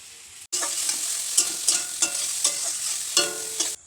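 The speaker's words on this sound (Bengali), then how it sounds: "এদিকটা এই যে ডিম, পেঁয়াজ আর টমেটো সব কিছু ভাজা হচ্ছে" Egg, onion and tomato frying together in a pan, a steady close sizzle broken by repeated scraping stirs of a spatula.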